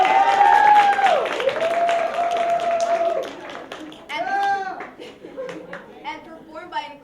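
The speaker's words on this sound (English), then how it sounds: "Round of applause for them, everyone." An audience at a school play applauds the writers, with scattered clapping under a voice speaking over it, followed by lighter claps and more talk.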